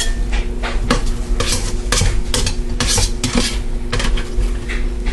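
Metal utensil scraping and knocking against the bottom of a pressure cooker pot to loosen browned bits after pork loin, a steady run of close, loud clatters and scrapes with no talk.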